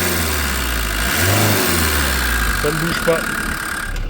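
Camper van engine with a failing alternator revs up from idle, a steady low drone rising in pitch and loudness, with someone speaking briefly over it.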